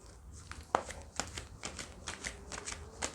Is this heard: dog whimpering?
no